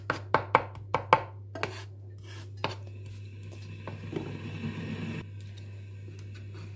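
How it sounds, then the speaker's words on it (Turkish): A garlic clove is crushed on a kitchen board with a quick series of sharp, close knocks, followed by softer scraping and rubbing sounds. "Sarımsağı eğer güzelce patlatırsanız daha çok içerisindeki etkin maddesinden faydalanırsınız."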